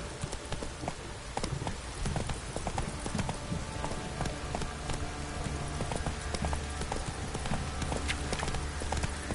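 Horse hooves clip-clop steadily in a PS4 video game, a continuous galloping patter carried over game ambience with no speech.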